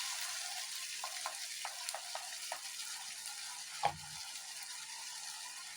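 Ground raw masala goes into a hot pan for hotel-style mushroom masala and fries with a low, steady sizzle. A few light clicks sound early, and one soft thud comes near the end. No one speaks.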